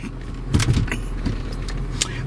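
A 1988 Lincoln Town Car starts off on a drive: a short burst of mechanical whirring and clunks, like a power window or door, over a low steady engine hum, close and fairly loud, with no talking.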